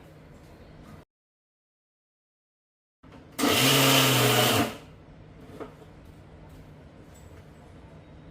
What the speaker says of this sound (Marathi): असा हा मसाला घेतला आणि मिक्सरला एक वेळ फिरवून घेतलं की एकदम प्लेन होईल